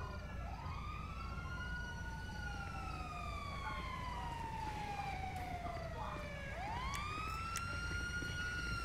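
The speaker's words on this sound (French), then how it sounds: "Elle arrive, l'ambulance." An ambulance siren wails in long rising and falling sweeps, steady and fairly loud over a dense noisy background, then restarts with a fresh upward sweep; no speech is heard.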